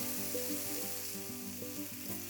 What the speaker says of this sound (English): Mix it well so the spice powders are nicely coated to the vegetables.